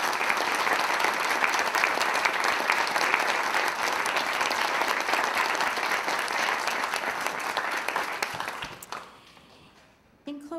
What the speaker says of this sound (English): A round of applause for our community.